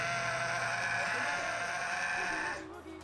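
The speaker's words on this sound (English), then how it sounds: "My goat just got real mad for a second." A game goat bleats angrily in a series of wavering, nasal cries over steady background music, loud and close, tapering off near the end.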